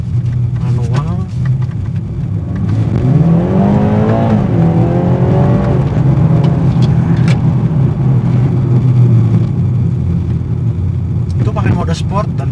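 A 2020 BMW G20 330i pulls hard in sport manual mode, its engine note rising through the revs, easing off, then climbing again, loud and close inside the cabin, with someone talking over parts of it.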